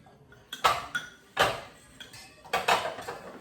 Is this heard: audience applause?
no